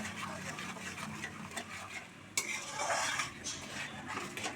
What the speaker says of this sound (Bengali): এবার ভালো করে কষে নিতে হবে মিশ্রণটিকে।